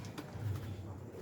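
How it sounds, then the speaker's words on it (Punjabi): A Chandni breed pigeon gives a single soft, low coo, faint and brief against quiet background noise. "ਇਹ ਚਾਂਦਨੀ ਬਰੀਡ ਦਾ ਕਬੂਤਰ ਆ ਜੀ"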